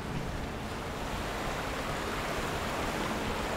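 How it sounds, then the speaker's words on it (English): A waste waterfall in the video game Black Mesa pours in a steady, dense, broadband rush that holds unchanged and fairly loud throughout, with no talk over it. "A literal waste waterfall."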